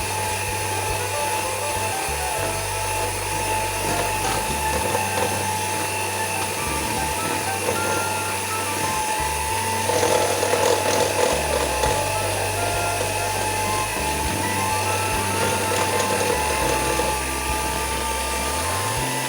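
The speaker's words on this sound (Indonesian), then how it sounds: "Ini aku mixer pakai kecepatan paling rendah supaya tercampur" An electric hand mixer runs at its lowest speed, beating cookie dough for cheese sago cookies, a steady loud motor whine with shifting low rumbles as the beaters move through the dough, continuous throughout without speech.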